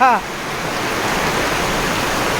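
Heavy monsoon rain pours down in a Konkan village, a loud, dense, continuous roar of rainfall close by, with a short voice at the very start.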